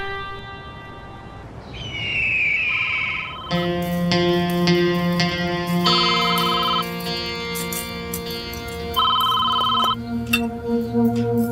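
A telephone rings with a bright electronic ringtone melody, loud and close, its repeating tones layered over a musical background with no talk.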